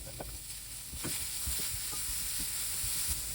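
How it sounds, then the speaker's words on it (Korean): Chopped button mushrooms and sliced onions stir-fried in a pan, a steady hiss of sizzling oil with repeated soft scraping strokes of a spatula stirring, close and continuous with no talking. "마지막으로 다진 양송이를 넣어 볶아줍니다."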